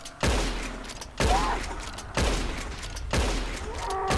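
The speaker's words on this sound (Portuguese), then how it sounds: "Vai o primeiro tiro, hein?" Four loud shotgun blasts during a hunt, evenly spaced about a second apart, each a sharp boom with a short rumbling tail.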